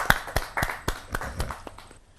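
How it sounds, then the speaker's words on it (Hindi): Scattered applause from a small audience at a Hindi poetry gathering, a handful of distinct claps landing irregularly over two seconds and thinning out toward the end. "जोरदार ताली के साथ प्रीति"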